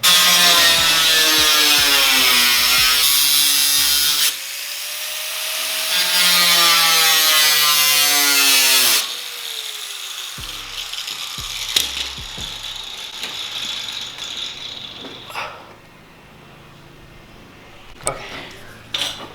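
Angle grinder cutting into a Subaru car fender for a widebody kit install, a loud sustained whining cut with shifting pitch, then rattling and clattering handling noises, close.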